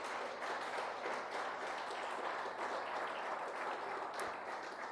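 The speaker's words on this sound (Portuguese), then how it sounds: "Você pode aplaudir bem forte em nome de Jesus?" A church congregation applauds during a Portuguese-language worship service. The steady, even wash of many hands clapping sounds faint and somewhat distant, holding level for several seconds.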